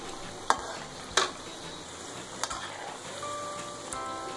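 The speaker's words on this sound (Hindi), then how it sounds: "इसी आंच पे इंशाल्लाह 5 से 7 मिनट पकाएंगे हम इन्हें, जब तक करारे ना हो जाएं।" Potato pakoras frying in hot oil on a low to medium flame, with a continuous soft sizzle broken by a few sharp clinks of a spoon stirring against the pan, close up and with no speech.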